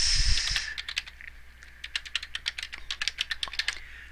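Someone types a web link on a computer keyboard, a quiet run of quick irregular key clicks in a calm room after a brief faint noise at the start.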